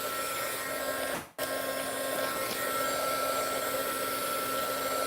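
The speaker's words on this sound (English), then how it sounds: "I've been using the heat tool from time to time" A heat tool for paper crafting and altered book work blows hot air in a steady, loud, close whir that cuts out briefly near the start and then resumes unbroken.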